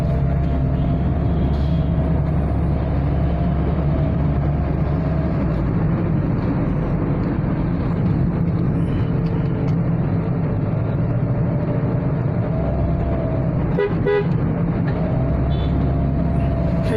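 Busy Dhaka road traffic near Farmgate, under the metro rail and elevated expressway, the day after Eid: a continuous dense rumble of cars and buses with a brief horn-like tone near the end.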